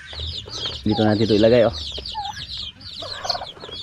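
Chicks cheeping and turkeys gobbling on a farm, with clucks and shrill peeps scattered throughout, close by, while someone talks over them.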